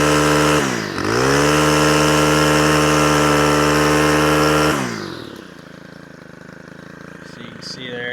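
STIHL FS 111 RX string trimmer engine running loud and close at high revs for several seconds, then dropping back to a steady lower idle hum.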